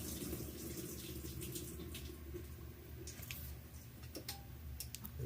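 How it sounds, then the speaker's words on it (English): A GE washing machine with a fault that stops it spinning out clothes, running a speed wash cycle: water trickles and flows steadily while faint irregular ticks and clicks sound close by. "So I'm gonna just run the speed wash real quick."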